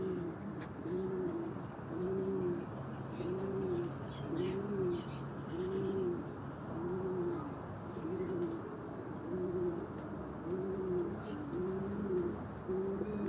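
A pigeon held in hand on a Rawalpindi–Islamabad rooftop coos in a regular, repeated rhythm, close and steady, with faint chirps in the background.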